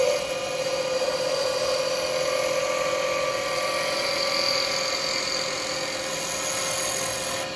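A wood lathe spins steadily while a roughing gouge cuts the turning wood, giving a continuous, fairly loud whirring hiss with a sustained high tone throughout.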